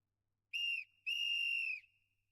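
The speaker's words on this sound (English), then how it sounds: "I received this whistle during basic training." A whistle in a video game blown in two clean, shrill blasts, a short one then a longer one, loud and close against otherwise silent surroundings.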